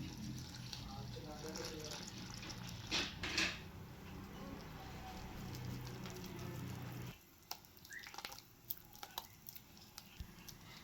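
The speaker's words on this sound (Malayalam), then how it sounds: "വെള്ളം ഒഴിച്ചൊന്ന് കുഴച്ചെടുക്കാം." Water is poured into flour seasoned with turmeric, chili powder and salt and stirred into a batter for a panikoorka leaf snack, giving a quiet trickle and wet mixing sounds, followed by softer scattered taps and clinks.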